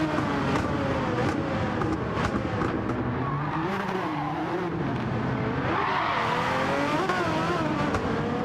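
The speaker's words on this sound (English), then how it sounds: "As you see, the Jaguar does get tail happy off the corner." A Jaguar Group C race car slides off a corner at Fuji in Gran Turismo 7, engine droning and shifting pitch as tires squeal through the slide, with other cars' engines weaving underneath, continuous and fairly loud.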